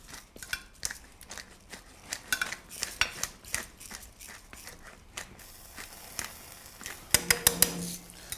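Chunks of oxtail drop into a pot of cream sherry, beef stock and black pepper for soup, giving a run of clinks and clatters with a brief sizzle, close and fairly quiet, no talking.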